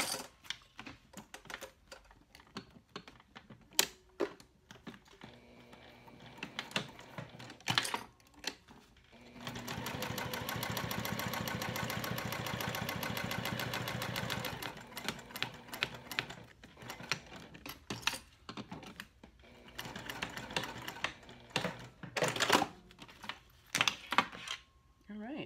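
Close up, a sewing machine stitches a coin-pocket boundary box into a vinyl tall wallet, with short clicking bursts of needle action giving way to a steady five-second run in the middle, then more stop-start stitching and handling clicks.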